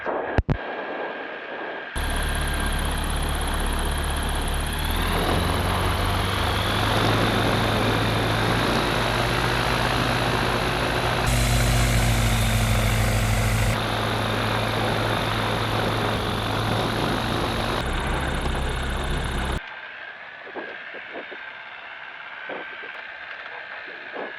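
Ultralight Lambada aircraft engine running steadily while taxiing on a grass airfield, a loud continuous drone with a strong low hum and tonal whine that shifts slightly in pitch, starting after a short quiet lead-in and cutting off near the end.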